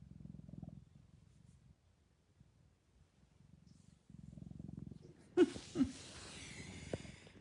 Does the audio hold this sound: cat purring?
yes